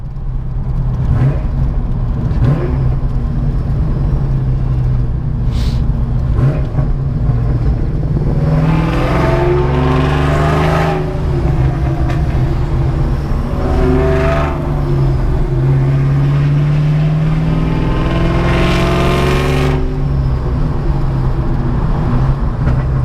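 A car driven without its hood gives a steady close engine drone and road noise, with several rising revs as it accelerates.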